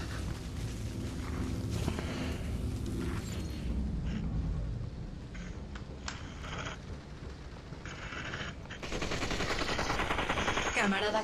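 Sustained automatic gunfire in the battle royale game Population One, dense rapid bursts and booming shots filling the whole stretch, with a brief lull midway before heavy firing resumes.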